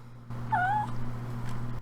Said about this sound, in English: at least I finally caught one of your meows on camera